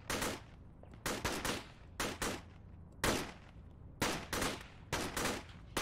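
Suppressive fire in the military simulator game Arma 3 rattles out in repeated short bursts of automatic gunfire, loud and sharp, separated by brief pauses, with no voices.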